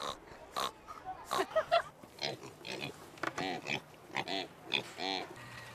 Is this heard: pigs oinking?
yes